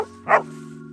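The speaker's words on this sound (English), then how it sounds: "Little doggy chasing us." A small Scottish terrier on a hiking trail gives a single short, sharp bark over a low, steady background hum.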